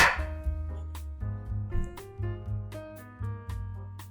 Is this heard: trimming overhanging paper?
no